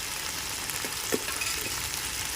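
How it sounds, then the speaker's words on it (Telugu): Ginger and garlic frying in oil, a continuous close hissing sizzle with a few faint stirring scrapes over about two seconds, no talking. "అల్లం ఎల్లిగడ్డ నూనెలో ఫ్రై కావాలి పచ్చివాసన పోయేదాకా ఫ్రై చేసుకోవాలి"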